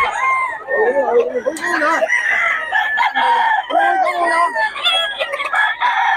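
Several chickens and roosters crow and cluck over one another in a loud, continuous chorus, with overlapping calls close by.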